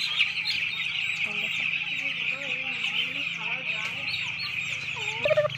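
Young poultry chicks at a poultry farm during vaccination give dense, continuous high chirping throughout, a steady flock chorus with occasional louder calls near the end.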